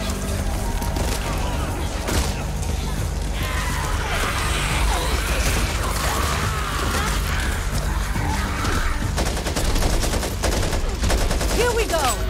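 Rapid bursts of gunfire in the Back 4 Blood video game, with repeated loud shots, machine-gun rattles and mechanical clatter. Players talk over the shooting at times.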